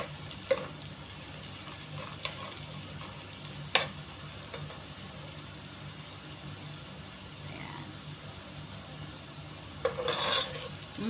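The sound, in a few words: onions being fried in a pan for an ampalaya dish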